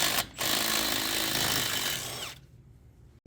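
A power tool with a 13 mm socket spins off the front axle nut of an F-150 during a wheel bearing and hub replacement. It gives a loud, steady whirring for about two seconds, then cuts off into near silence.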